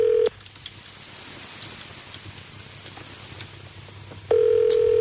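A telephone ringing on a line, a loud electronic tone that sounds, cuts to faint background hiss for several seconds, then rings again.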